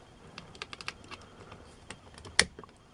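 Soft, scattered handling clicks lead up to one sharp, distinct snap as a Clicksafe cinch lock for clothing and tools clicks shut, quiet and close in an otherwise calm room.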